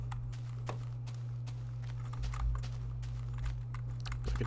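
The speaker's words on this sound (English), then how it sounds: "Hope this clicking isn't too loud, by the way." Mouse and keyboard clicks from a computer during Minecraft play, a scattered, irregular stream of close sharp clicks over a steady low electrical hum, with no talking.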